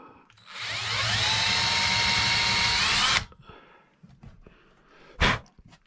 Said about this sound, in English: Just gonna drill a pilot hole.